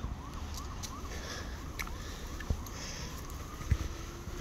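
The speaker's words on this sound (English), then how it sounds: "Oh, look here, listen to all the sirens." Faint sirens wail in the distance, their pitch sweeping up and down repeatedly over rumbling outdoor traffic noise, with a couple of sharp knocks nearby.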